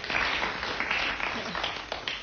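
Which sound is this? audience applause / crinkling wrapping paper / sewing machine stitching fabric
audience applause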